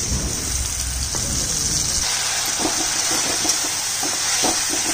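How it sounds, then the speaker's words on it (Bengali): Spice paste of ground cumin, chilli and turmeric thinned with a little water hits a hot pan in a Bengali kitchen, producing a steady bright sizzling hiss that softens slightly after the first couple of seconds, with no talking. "মশলাটা ঢেলে দিলাম।"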